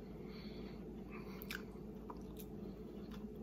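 Faint crunching from someone chewing a thin Keebler peanut butter toast cracker, a few scattered bites close by over a steady low background hum.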